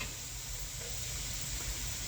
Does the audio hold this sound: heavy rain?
no